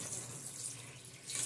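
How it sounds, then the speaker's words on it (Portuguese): Water pours from a tap into a pot of sarapatel, a soft steady hiss of running liquid that grows a bit louder near the end, with no talking. "Agora eu vou colocar água."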